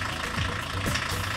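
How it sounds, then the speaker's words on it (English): A diesel vehicle engine runs at a low, steady idle with a faint rumble and a couple of subtle shifts in pitch, heard alone without voices. "Start the vehicle's engine"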